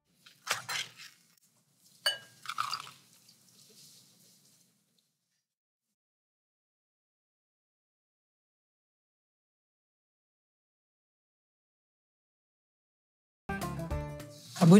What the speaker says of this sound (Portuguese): Deixa eu abrir aqui que eu já vou escorrer.